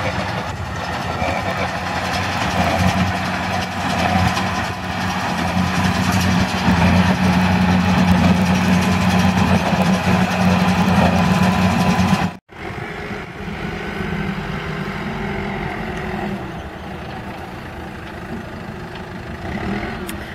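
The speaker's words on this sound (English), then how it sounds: "So this is the baler." A hay baler runs in a field during the hay harvest, giving a steady, loud mechanical drone with an engine hum that cuts out abruptly for a moment midway, then carries on a little quieter.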